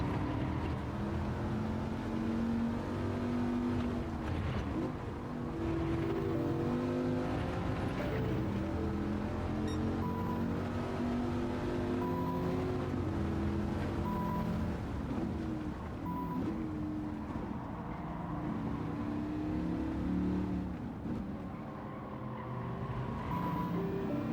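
A 2006 Dodge Viper SRT10 Coupe engine drones in a racing video game played on a steering wheel, a loud continuous V10 growl that rises and falls with throttle and gear changes.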